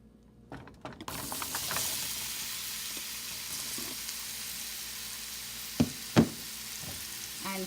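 Apple pieces drop into hot tempering oil and fry with a steady sizzle and hiss, beginning after a few knocks and continuing evenly, with two sharp clatters near the end.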